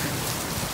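Rain falling steadily in Sanaa, Yemen, a dense, even patter of drops on surfaces, loud and close, heard alone without voices.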